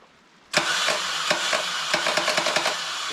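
A Twin Cam chopper motorcycle engine fires up abruptly after brief quiet, then runs loud and close with a rough, pulsing idle and repeated sharp bursts.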